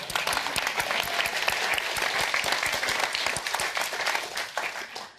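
Sustained applause from a TEDx audience fills the room, dense and steady throughout before easing slightly at the very end.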